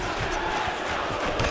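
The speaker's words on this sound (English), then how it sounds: "big pop from the crowd as they get back to their feet" Crowd noise in the EA UFC 5 video game, a steady broadband roar of an arena audience swelling as fighters get back to their feet between José Aldo and Bryce Mitchell, continuous and fairly loud throughout.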